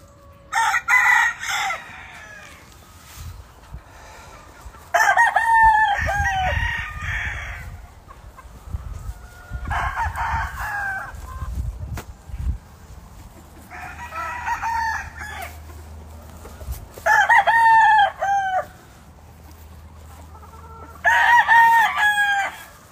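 Gamefowl roosters of breeds such as Kelso, Roundhead, Yellow Leg and Sweater crow on a big farm: about six loud, close cock-a-doodle-doo calls at regular intervals, with quiet clucking and farm noise between them.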